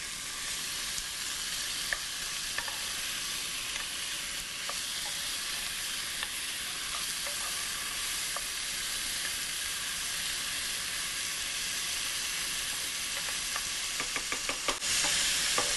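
Meat drops into a hot pot of celery stew and sizzles steadily, a bright continuous frying hiss with faint crackles and a few clicks of stirring near the end, no talk.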